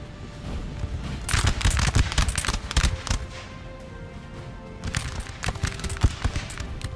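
Musket volleys crackle in Napoleon: Total War, two clusters of rapid overlapping shots a few seconds apart, moderately loud over a steady battlefield background.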